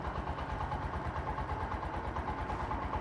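A Bajaj CT 110X motorcycle idles steadily just after starting, its small single-cylinder engine giving a constant low, rhythmic putter with a slightly bassy exhaust note, heard close and alone without talk.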